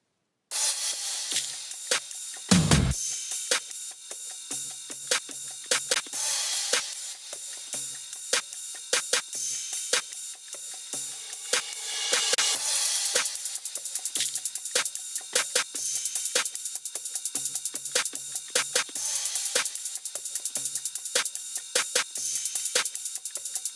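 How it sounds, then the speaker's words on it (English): Soloed background drums and cymbals from a trap beat: rapid ticking hi-hats and crisp cymbal hits with a few washy swells, thin and bright with no bass, running steadily. "the reason I have so many different cymbals and background drums"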